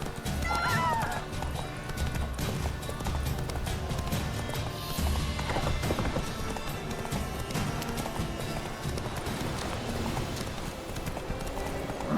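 Roach, the horse in The Witcher 3 video game, gallops with a steady, fast clip-clop of hooves and lets out a whinny, all over continuous game ambience and music.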